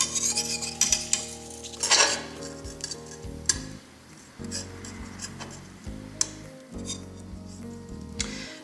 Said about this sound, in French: Je ne coupe pas mon fil, je vais le dérouler au fur et à mesure